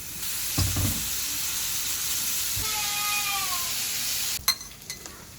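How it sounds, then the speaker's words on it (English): Sausages and onion frying together in a pan: a continuous close sizzle, a few clinks and scrapes of a utensil, and a brief squeaky tone partway through, ending in knocking sounds. "Put the onion on one side of the pan and fry the sausages."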